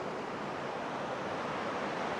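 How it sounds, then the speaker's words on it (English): Ocean waves breaking on the South African coast, a steady, broad wash of surf that stays loud and continuous throughout, with a wind-like roar and no voices. "I've got the waves off this way"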